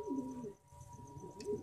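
Domestic pigeons coo softly and close by in a low, rolling murmur against a steady hum, with no voices.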